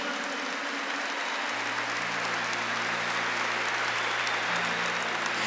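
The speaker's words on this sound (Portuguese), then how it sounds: "Pode aplaudir o Espírito Santo." Steady, dense applause fills a church during a Portuguese-language worship service, a continuous crowd of clapping hands over a low sustained hum, with no break across the span.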